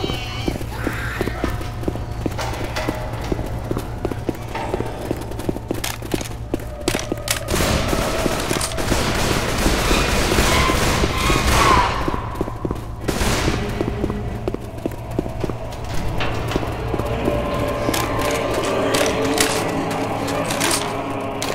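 Bursts of rapid gunfire rattle through Left 4 Dead 2 gameplay, with dense volleys and single shots mixed with footsteps and running, and a steady low game hum beneath.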